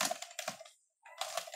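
Computer keyboard keys tapped in two short bursts separated by a pause, close and fairly quiet, as code is entered in a text editor.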